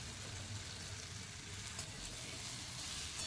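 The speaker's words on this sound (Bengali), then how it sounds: "আলুটাকেই আগে ফ্রাই করে নিতে হবে" Potato pieces fry in a pan with oil for a pumpkin-and-potato dish, giving a steady, soft, continuous sizzle heard alone at low level.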